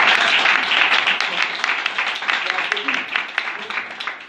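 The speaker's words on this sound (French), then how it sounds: "Ça, c'est applaudi." Audience applause at a presentation for a charity group fills the whole stretch, dense steady clapping from a sizable crowd, near and loud without a break.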